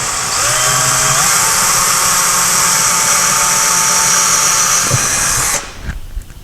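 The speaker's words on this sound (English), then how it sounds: "So we're going to drill it just a little bit," A loud power drill whines steadily for several seconds while drilling about an inch into a wall, its pitch shifting slightly as it bites in, then cuts off abruptly near the end.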